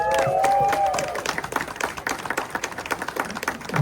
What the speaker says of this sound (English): So a round of applause there.